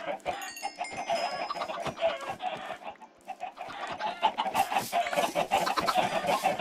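Chickens in the Minecraft video game cluck repeatedly in short bursts against pinging game sounds, with people talking over them.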